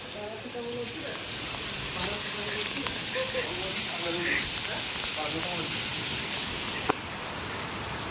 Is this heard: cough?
no